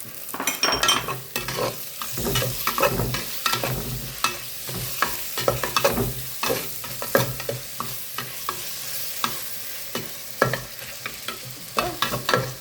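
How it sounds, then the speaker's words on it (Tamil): Tomatoes sauté in a pan, the spoon scraping and knocking in repeated strokes over a soft, continuous sizzle, close and fairly loud, with no speech. "இப்போ நம்ம தக்காளியை போட போகிறோம். தக்காளி போட்டோம்."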